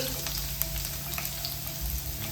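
Curry leaves and four crushed garlic cloves sizzle in hot oil in a pan, a steady crackling fry with small pops and light spatters, fairly quiet and continuous.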